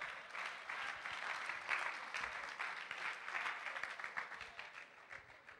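A congregation claps together for the Lord during a church service. The applause comes as a rhythmic, moderately distant patter of many hands that rises and falls steadily without pause.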